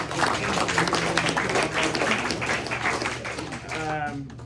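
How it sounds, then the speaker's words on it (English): Applause from an audience at a press luncheon, a steady patter of clapping lasting several seconds, with voices heard over it. "Let's give him a round of applause for that one."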